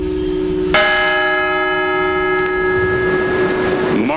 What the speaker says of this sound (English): the bell will ring for each of the 40